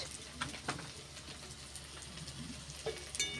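Spices frying in a pan for a cauliflower egg curry, a steady close sizzle with faint stirring clicks and scrapes running throughout, no voices.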